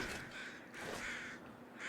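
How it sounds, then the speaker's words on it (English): Crows caw repeatedly in a snowy wilderness in the survival video game The Long Dark, three or four harsh calls at moderate distance, fairly faint over a soft wind-like background. "Where are those crows?"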